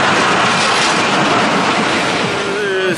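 A Wizard roller coaster train at Six Flags Great America runs along its track with a steady, loud rumbling roar, and a rising metallic wheel squeal near the end.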